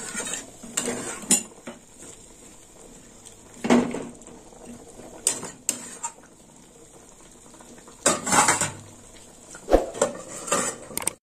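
A metal lid is set onto a pot of mixed vegetables in a home kitchen, with scattered clinks and clatters of pots and utensils in short bursts against a quiet background.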